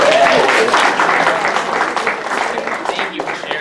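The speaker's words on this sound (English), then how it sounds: "Yeah, round of applause." A business-school audience at Berkeley Haas gives a round of applause during an improv presentation, full clapping starting loud and gradually tapering, with a brief voice near the start.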